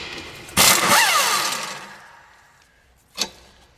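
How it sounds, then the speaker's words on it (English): An impact wrench rattles hard against a 17 mm front strut nut on a 2001 Honda Odyssey: one loud burst that slowly fades as the tool winds down, then a brief second hit near the end. "if you want to get these loose, an impact is the way to go"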